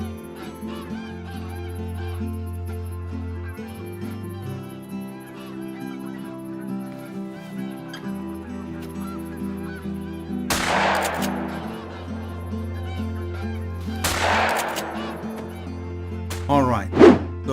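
Geese honking in the hunting game theHunter: Call of the Wild, repeated calls over a steady low droning background, with two loud bursts of broadband noise and a sharp burst near the end.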